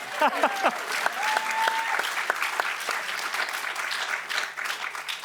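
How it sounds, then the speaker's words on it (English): Conference audience applauding at a children's and family media industry event, a steady wash of claps from a full room holding throughout, with faint voices beneath. "We could clap, couldn't we?"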